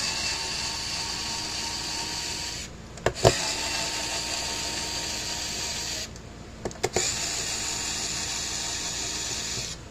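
A HOTO 24-in-1 electric screwdriver on its lowest torque setting drives with a steady motor whir, stops briefly twice with clicks and clunks, then spins up again, near and moderately loud with no talking.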